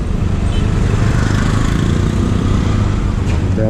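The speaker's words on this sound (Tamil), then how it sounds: "பயங்கர டிராஃபிக்காக இருக்குங்க இந்த இடம்." Heavy road traffic in Bangalore surrounds a Benelli superbike, a dense continuous roar of engines and motorcycles close by, loud and unbroken throughout.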